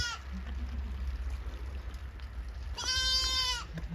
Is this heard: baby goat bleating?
yes